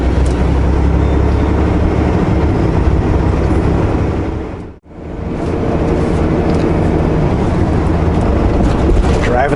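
A car rolls across the floating bridge over Okanagan Lake in BC, with a steady, loud road and engine rumble heard from inside that briefly cuts out midway and then returns at the same level.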